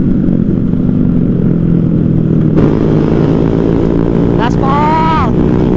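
Motorcycles in a street race, a loud continuous engine drone at high revs with a rising, whining tone near the end, heard close over wind noise.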